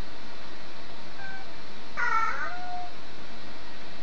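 A young girl imitates a cat with one short meow, faint and close, rising and falling briefly in an otherwise quiet room.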